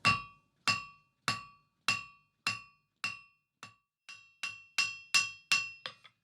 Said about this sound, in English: I've now flipped them around and I'll forge a flattened taper on the end